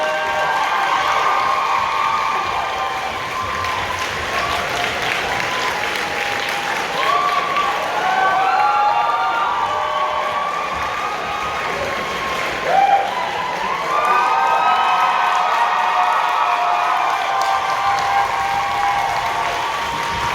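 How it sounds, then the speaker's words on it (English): An audience at a convention closing ceremony applauds and cheers continuously in a large room, a loud sustained wash of clapping with shouts rising over it. "Do not stop applauding!"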